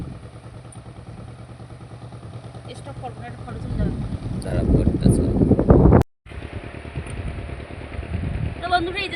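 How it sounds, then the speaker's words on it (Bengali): Gusty wind by a river buffets the microphone in loud surges that build midway, with a brief dropout and a person talking underneath. "নদীর পাশে আজকে প্রচণ্ড হাওয়া"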